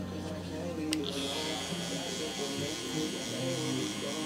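Hair clippers with a half guard buzz steadily while cutting a taper, a continuous close electric hum with the motor note running throughout, with a person speaking over it.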